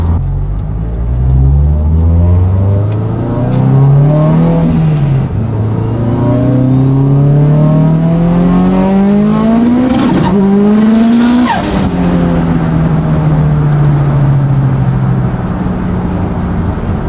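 A high-revving tuned Subaru STI engine on about 50 psi of boost climbs steadily through the gears under hard load, with brief dips at each shift, loud and close throughout.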